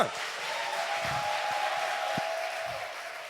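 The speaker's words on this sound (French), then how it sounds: "Sous vos applaudissements" Audience applause at a live stand-up comedy show, a steady wash of clapping held at moderate level for the whole stretch, with a faint voice and a few louder bursts underneath.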